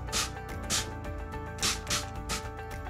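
A spray bottle of soapy water mists onto motorcycle vinyl in a quick series of short, hissing bursts, five spritzes in an uneven rhythm, faint and close over a low hum.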